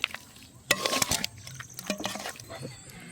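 Squeezed tamarind water is poured into a pot of beef curry in a kitchen, a short splashing pour followed by softer liquid trickles.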